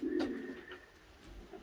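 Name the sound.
pigeons cooing in the loft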